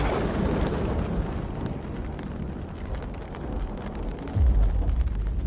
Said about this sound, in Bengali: আর আকাশে বিদ্যুৎ চমকাচ্ছে।